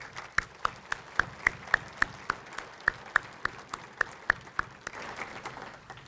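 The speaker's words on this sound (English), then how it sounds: "I'd like to give them a round of applause" An audience at the Coeur d'Alene State of the City Address applauds the urban renewal agency Ignite, with scattered clapping under a few distinct, sharp nearby claps in a steady rhythm.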